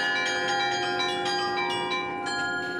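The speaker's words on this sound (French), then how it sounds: "Sa tour date de 980 et abrite un carillon." Carillon bells ring from the tower of the Saint-Jean collegiate church in Liège, a loud, resonant run of overlapping struck tones sustained throughout with no voices.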